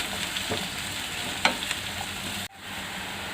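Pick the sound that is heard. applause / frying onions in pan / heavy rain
frying onions in pan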